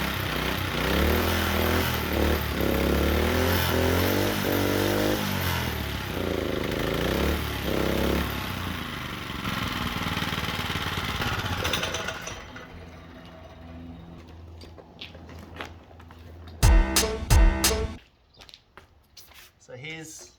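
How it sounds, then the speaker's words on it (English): An old minibike engine running with the chain unhooked, a loud, rough, buzzing drone with a pulsing rhythm that cuts out partway through, followed by quieter talk and a few sharp clunks. "So the engine does actually run, but it's not a very good engine."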